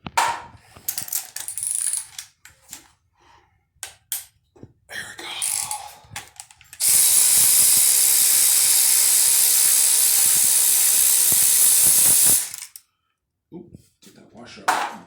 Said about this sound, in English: it torqued down nice and tight with the ARP head studs